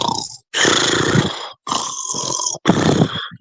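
Man imitating snoring with his voice, three loud, rough, rasping snores separated by short pauses, close to the microphone with no other sound.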